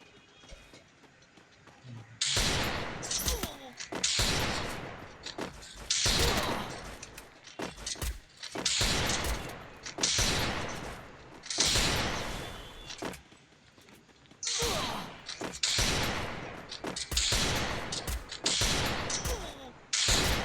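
Desert Eagle pistol fire in a shooting video game, repeated sharp loud shots in irregular clusters with brief pauses between, heard alone without talk.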